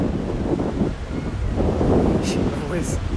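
Gusty wind buffets an overhead camera mounted above an outdoor lawn bowls rink near a bay during a 2007 Queensland Open semi-final, giving a steady rumbling roar that runs under continuous commentary.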